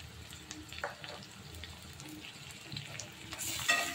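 Half a tomato frying gently in a pan over low heat, giving a soft, steady sizzle with occasional light stirring clinks, moderately close and fairly quiet throughout.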